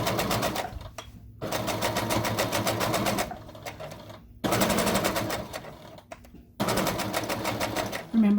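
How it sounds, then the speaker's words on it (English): Sewing machine stitching close to the edge of fabric for a plastic bag holder, forming an elastic pocket; loud, steady bursts of rapid stitching in four runs separated by short pauses. "I'm sewing really close to the edge"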